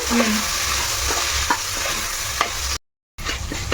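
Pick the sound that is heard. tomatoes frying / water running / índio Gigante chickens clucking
tomatoes frying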